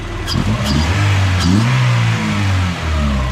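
A Honda Integra DB1 with a freshly assembled B18C1 engine revs repeatedly, rising and falling in quick blips over a loud, close rumble.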